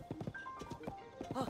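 Rhythmic horse hoofbeats in the video game The Legend of Zelda: Tears of the Kingdom clip-clop at a steady pace while a voice speaks over them, with a brief whinny-like tone near the end.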